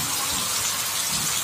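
Heavy rain pours onto a flooded main road as a steady, dense broadband hiss with a constant rushing wash of water close by, no voices.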